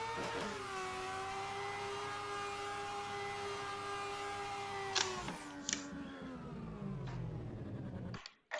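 Mazda RX7 rotary engine in a racing video game, holding a high sustained whining rev before the pitch drops as it shifts, with a few sharp clicks and a brief fade near the end.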